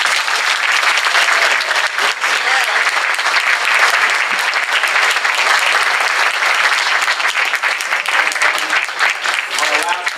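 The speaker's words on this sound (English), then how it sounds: "Let's give them all a round of applause." A crowd at a political primary candidate forum applauds continuously for about ten seconds, dense, even clapping at steady volume throughout.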